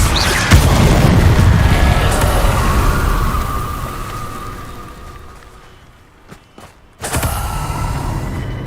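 Confringo blasting-spell explosions in Hogwarts Legacy: a loud booming blast with a long, rumbling decay that fades almost to quiet, then another sharp, heavy burst erupts close by.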